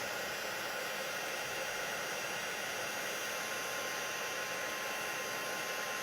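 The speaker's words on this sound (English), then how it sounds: "I just love heat embossing" A heat embossing tool blowing hot air over a handmade paper craft, a continuous close, loud whooshing hiss like a hair dryer, steady and unbroken throughout.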